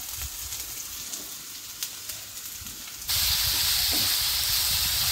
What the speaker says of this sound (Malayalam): നോക്കിയേ, ഉള്ളിയൊക്കെ നന്നായി വഴന്ന് വന്നിട്ടുണ്ട്.